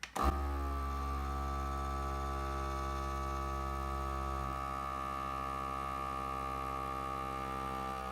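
Vacuum sealer pump drawing air from a bag of pork for sous vide, a steady humming drone that starts abruptly and holds constant, with a slight shift in tone midway as the pump keeps running.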